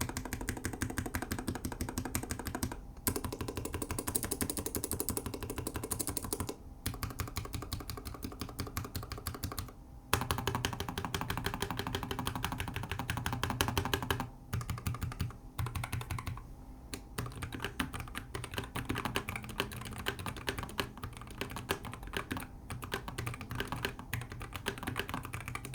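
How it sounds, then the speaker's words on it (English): Continuous clacking of keystrokes on a Keychron K3 Ultra 8K low-profile keyboard with red switches, dense and steady with brief pauses, close and fairly quiet, with no voices. "Here's a typing test so that you can hear"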